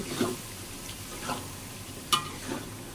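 Biryani masala sizzles gently in a pan while a spoon stirs it in a few soft, scraping strokes, with one sharper metallic scrape near the end; the frying stays quiet and close throughout.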